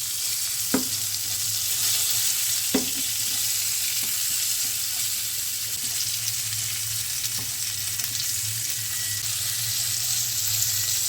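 Slices of pointed gourd frying in a pan over a low flame, with a continuous close sizzle and a few distinct knocks and scrapes as the pieces are turned; no one speaks.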